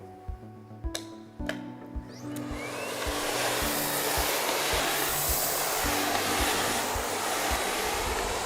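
A Miele Complete C3 vacuum cleaner set for hard floors starts with a few clunks and clicks, then runs as a steady loud whooshing roar.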